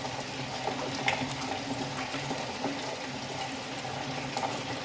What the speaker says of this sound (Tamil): கிரைண்டரில் போட்டாச்சு.